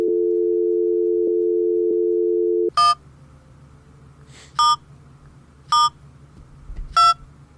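A telephone dial tone hums steadily for nearly three seconds, then cuts out, and four short, separate keypad tones follow at uneven intervals over a quiet line.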